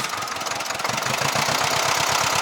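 A cold Ursus C-330 tractor engine runs in frost at about minus eight degrees, chugging in a fast, regular knocking rhythm that grows steadier and louder, close by, with no voices.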